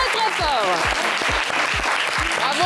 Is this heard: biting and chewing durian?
no